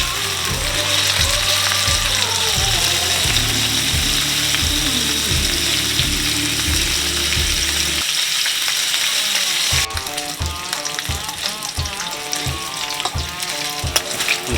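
Bacon strips frying in a pan, a steady loud sizzle and crackle running throughout, with a break near the middle as the rashers are flipped and clattering, scraping utensil sounds on top.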